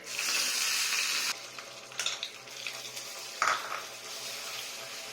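Curry leaves hit hot oil already tempered with mustard seeds, chana dal, urad dal and cumin for coriander chutney, giving a loud steady sizzle that breaks into sharper crackles and spatters.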